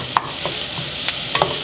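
Chinese sausage stir-fried in a big pot: a short steady sizzle with a few sharp clinks of the utensil against the pot, close up and without speech.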